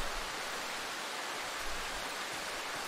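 Rain falling in the video game Darkwood, a constant soft hiss that holds level throughout, alone with no talking.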